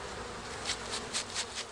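Honey bees buzz steadily, with a faint continuous hum and several slightly louder swells as individual bees pass close by, no voices present.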